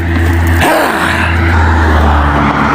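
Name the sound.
cars passing by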